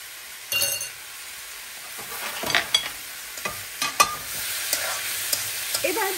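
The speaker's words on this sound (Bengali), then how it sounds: "এবার ভালো করে কষাতে থাকবো।" Spices with turmeric powder being stirred and fried in a pan for a Bengali-style egg omelet curry, a close sizzle broken by repeated scraping stirs and occasional light clinks.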